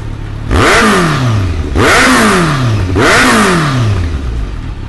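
An inline-four motorcycle with an Arsenal aftermarket exhaust revs three times in a row, each blip rising sharply and falling away, loud and close with no talking.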